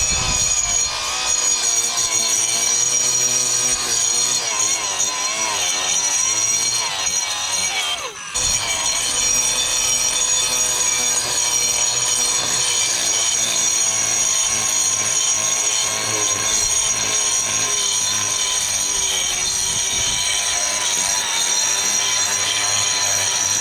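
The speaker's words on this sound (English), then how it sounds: "So I can grind down uneven concrete surfaces, even if I have to move it deep into a slab." An 18-volt Ryobi cordless angle grinder grinds an uneven concrete surface, giving a loud, continuous high-pitched whine with gritty rasping that dips briefly partway through before carrying on steadily.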